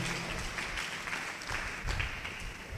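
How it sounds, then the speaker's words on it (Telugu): A church congregation claps together loudly, a dense, steady wash of applause filling the room with a brief swell near the end and no voices over it. "గట్టిగా చప్పట్లు కొట్టండి, గట్టిగా కొట్టాలి"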